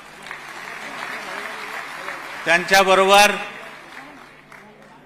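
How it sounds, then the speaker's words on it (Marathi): Amid a quiet hall murmur at a party's anniversary rally, someone speaks briefly, then his voice is nearly drowned by a sudden, short burst of loud crowd applause and cheers that fades quickly. "पुन्हा एकदा जोरात टाळ्या वाजवा."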